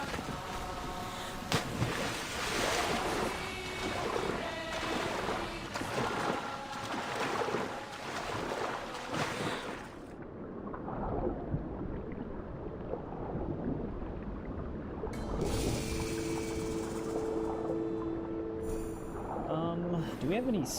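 Sailing ship at sea in Assassin's Creed Odyssey, with wind and water washing around the hull in a steady broad rush, then a quieter stretch and a soft tonal game cue under occasional voices.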